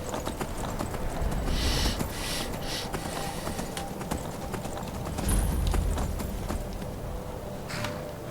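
Horse hooves clip-clop steadily in Skyrim, the rhythmic thuds close and continuous with brief louder bursts, over faint background game ambience.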